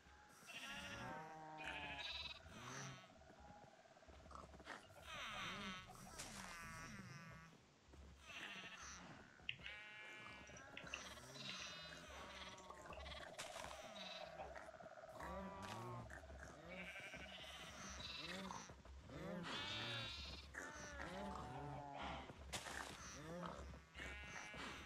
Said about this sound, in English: We need more sheep.